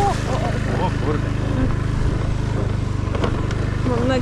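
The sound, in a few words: motor scooter engine riding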